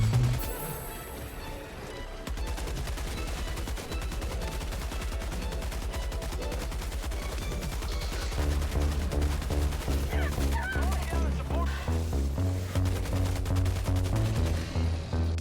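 A heavy machine gun fires in the game Helldivers 2, a sustained stream of rapid, evenly spaced shots that stay loud and dense throughout.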